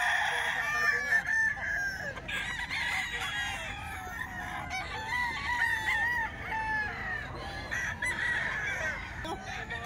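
A Gilmore hatch gamefowl rooster crows repeatedly, its calls standing out against steady background clucking and other fowl noise that runs throughout.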